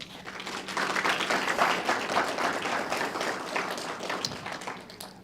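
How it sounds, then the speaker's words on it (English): An audience at a technical honor society induction ceremony gives a steady, sustained round of applause for parents and family members, dense clapping filling the room throughout without pause. "Can we please give another round of applause to your parents and family members who have helped you become successful?"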